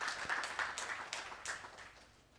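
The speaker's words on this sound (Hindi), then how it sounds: "सर, एक बार ताली आप सबकी तरफ से।" Audience clapping at the inaugural session of the Dainik Jagran Bihar Samvadi event, a steady patter of many hands at moderate distance that gradually thins and fades toward the end, with no talking over it.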